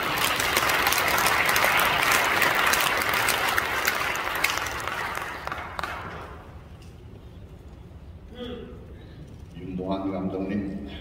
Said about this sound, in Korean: 나오실 때 우리 경렬 박수를 올리겠습니다